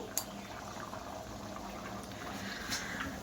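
Rice and mung dal cooking in pots on a home stove, a soft continuous bubbling and simmering hiss at close range, steady with faint clinks, no speech.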